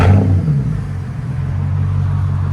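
BMW V10 with a downpipe and X-pipe exhaust rumbling through a short rev, a loud deep blip at the start settling into a steady, throaty idle heard from inside the car.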